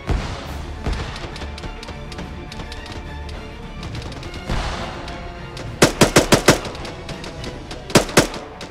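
Gunfire in the military video game Arma 3: scattered single shots over a steady background, then a fast burst of five or six loud cracks and two more close reports near the end.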